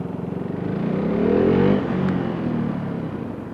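A KTM Duke 390 motorcycle ridden at speed, its engine note rising through a short rev and easing back, close and steady with wind rumble and no talk.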